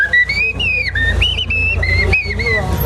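A human whistles a mimicry of Eurasian blackbird song, loud and close, with several sliding, fluting phrases separated by short gaps over nearly three seconds.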